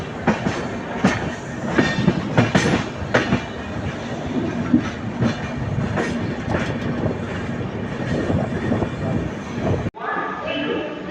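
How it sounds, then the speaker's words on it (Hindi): Train wheels of the Gondia–Mumbai Vidarbha Express clattering over points while switching tracks near Bhusaval Junction, loud rhythmic clickety-clack thumps over a steady rolling rumble, heard from on board, cutting off abruptly near the end. "हमारी ट्रेन ट्रैक चेंज करती हुई, तो इन पटरियों का आवाज़ सुन सकते हैं आप लोग"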